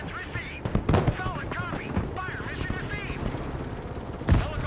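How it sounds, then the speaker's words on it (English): Apache attack helicopter under long-range fire in the war game Broken Arrow: bursts of machine-gun and cannon fire crack loudly over a rotor drone, with sharp impacts near the start and again near the end. "Oh, the Apache taking long-range fire there."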